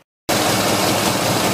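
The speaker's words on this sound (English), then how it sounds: "I'll start the engine up, warm it up first of all" A Triumph TR4 engine, being prepared for points and ignition timing adjustment, fires up abruptly after a brief silence and settles into a loud, steady idle close by.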